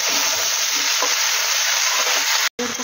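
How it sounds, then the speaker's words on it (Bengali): Vegetables sizzle and crackle steadily while being stirred in oil left from frying bhetki fish, for a pui-shak and mitul charchari; a loud, close, continuous fry with a brief cut near the end. "ভাজা ভাজাও প্রায় হয়ে এসেছে।"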